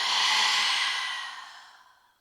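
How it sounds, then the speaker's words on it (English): One long breath exhaled out through an open mouth during a yoga flow, a close, breathy whoosh that starts strong and fades away over about two seconds. "Open your mouth, exhale it out."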